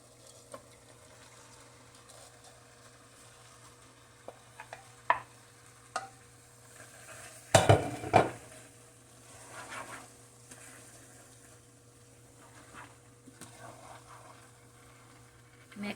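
Vegetables for Bisaya-style pancit being stirred and mixed in a pan, soft scraping and light sizzle with a brief louder clatter midway, otherwise quiet and steady.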